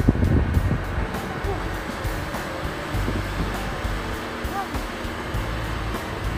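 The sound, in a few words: wind blowing by the sea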